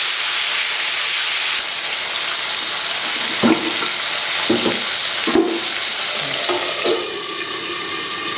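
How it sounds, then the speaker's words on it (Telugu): Tomato pieces sizzle and crackle loudly in hot oil in a pan, with a steady frying hiss and several clattering stirs of a spoon against the pan, no talking. "ఆయిల్ వేడైందండి. ఇందులో కట్ చేసి పెట్టుకున్న టమాటా ముక్కలు వేయాలి. ఒక్కసారి ఇలా కలపాలండి."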